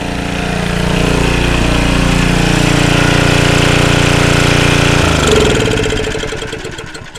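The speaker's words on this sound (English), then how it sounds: "It's got a shut-off switch on the top of the generator." A small gas generator runs loud and close with a steady, rattling engine hum, then is switched off and winds down, its sound fading out over the last two seconds.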